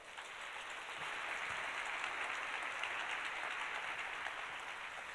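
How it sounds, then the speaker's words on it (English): Audience at a school of public health research day applauding award winners, a dense, steady wash of many hands clapping from across the room, moderately quiet and continuous throughout without talk. "Congratulations to all our winners today. Please, a round of applause."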